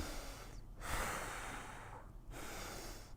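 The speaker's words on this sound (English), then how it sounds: "Now I'm going to do a deep breath." A person wearing an N95 face mask takes deep breaths through it. Two slow, close, airy inhale-exhale cycles are broken by short pauses.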